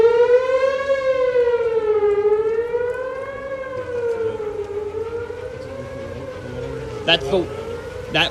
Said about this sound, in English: you were definitely listening to those tornado sirens